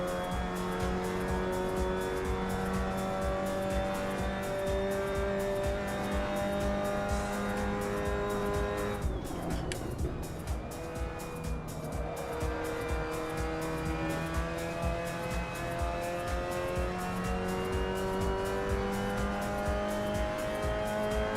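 MX5 Cup race car in a VR racing game at Silverstone, its engine droning steadily with harmonic whine as the driver lifts and blends throttle through a series of turns, with a brief dip mid-sequence before pulling again, loud and continuous.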